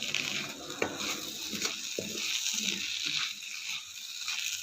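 Okra stir-fry cooks in coconut oil in a pan and is stirred, making a soft sizzle broken by irregular scraping and clattering strokes close by.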